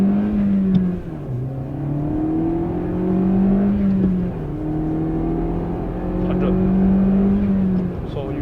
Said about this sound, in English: we're just gonna do a first gear pull lah